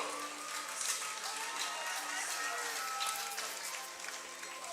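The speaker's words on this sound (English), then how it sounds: "Let's give a big round of applause for Coach Brady Neitzel." Crowd at a Colt World Series youth baseball game applauding: steady, fairly faint clapping and cheering from the stands that holds for several seconds with no clear voices.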